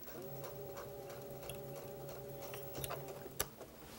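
A sewing machine stitches across folded quilt pieces, a quiet steady tonal whir with light ticking, ending with a few small clicks.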